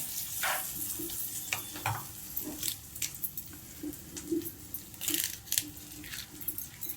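Mustard seeds frying in hot oil and being stirred, a soft hiss with scattered sharp pops and crackles, light scraping of a spoon against the pan, fairly quiet and close with no speech.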